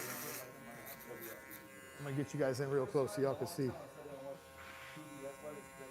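Close-up electric shaver cutting through a client's thick hair during a fade haircut, a steady near buzz running throughout while someone talks over it.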